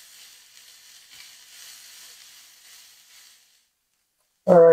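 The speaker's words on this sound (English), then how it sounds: "we'll let that cook up a little bit. Just enough to get the onion doing its thing and softening up." Onion in a pan gives a soft, faint sizzle that holds for a few seconds, then fades into silence before a sudden louder burst at the very end.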